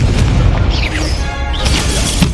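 A Stupefy spell blast in the video game Hogwarts Legacy: a loud, booming burst with crackling magical swooshes and sweeping tones layered over continuous game rumble, filling the short moment at high level.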